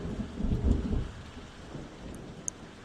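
A restorative rain spell in the fantasy video game Queen's Wish 2 rolls out as a low thunder rumble over steady rain noise, strongest at the start and then settling into a continuous hiss.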